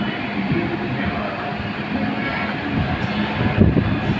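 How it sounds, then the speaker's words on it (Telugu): A Hyderabad metro train passing at Jubilee Hills, heard as a steady low rumble and rolling rail noise with wind buffeting the microphone, swelling slightly toward the end. "ఈ వెళ్ళే ట్రైన్ రాయదుర్గ్ వెళ్తుంది, వచ్చే ట్రైన్ నాగోలు వెళ్ళటానికి వస్తుంది ఆ ట్రైను."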